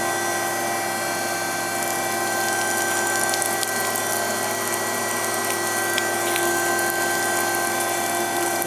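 A Marvel 2150 tilt-frame automatic bandsaw cuts steady and close with its coolant pump running, giving a continuous mechanical whir with liquid hiss and a few faint ticks over the constant drone.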